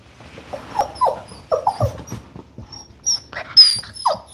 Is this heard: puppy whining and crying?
yes